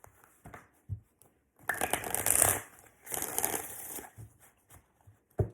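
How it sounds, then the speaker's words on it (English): A deck of cards is riffled and shuffled in two bursts of rapid fluttering, separated by brief pauses and a few soft taps. "One more shuffle."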